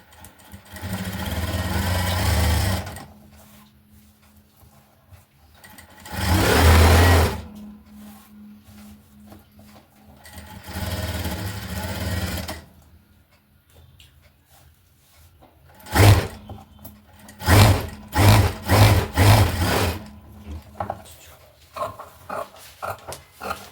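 A sewing machine stitches a blouse in several separate runs, with loud whirring bursts, pauses between them, and a final series of short rapid stitch bursts close by.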